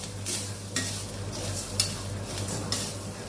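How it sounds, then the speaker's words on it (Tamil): Grated coconut lightly roasting in a pan for sweet poha kesari, with a steady soft sizzle and a few sharp scraping stirs of a spoon against the pan at irregular intervals, close up and without talk. "அதையும் இதில் சேர்த்து கொஞ்சம் லைட்டாக வறுத்துக்கலாம்"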